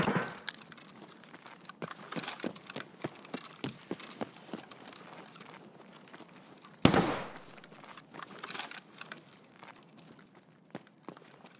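Sharp, scattered gunshots and footsteps in the shooter game Escape From Tarkov, one loud close crack near the middle amid quieter irregular impacts.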